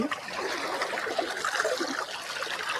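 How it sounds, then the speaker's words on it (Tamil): Water trickles steadily as hands are washed, a continuous near splashing dribble with no talking. "கையை கழுவுங்க"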